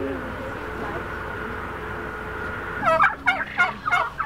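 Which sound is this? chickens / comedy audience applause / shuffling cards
chickens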